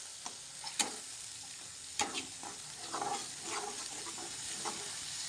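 Masala spices frying in hot oil for a paneer curry, with a steady low sizzle and scattered clicks and scrapes of a spoon stirring, close and fairly quiet, no talking.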